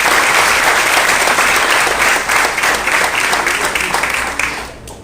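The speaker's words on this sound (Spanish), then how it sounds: "Un aplauso al Señor." A church congregation applauds during a Spanish-language sermon, dense loud clapping filling the room steadily before fading out near the end.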